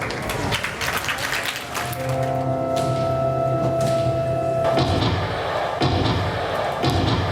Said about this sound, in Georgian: აი მაყურებელმა უკვე დაუკრა ტაში